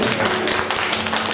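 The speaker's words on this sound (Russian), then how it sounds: "Давайте мы Господу дадим аплодисменты и прославим" A church congregation applauds during a Sunday service, a dense, steady wash of many hands clapping that fills the space, loud and continuous with no speech over it.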